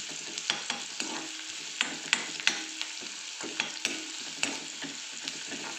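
Onions frying over a low flame while a spoon stirs them, giving a soft, steady sizzle with regular light scrapes and clinks against the pan.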